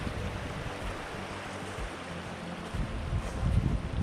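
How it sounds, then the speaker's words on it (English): A forest creek on a trail in Mammoth Cave National Park flows with a steady broadband rush of water, close and continuous, with a louder swell of churning toward the end and no voices. "Well, we found a river. Stream or river."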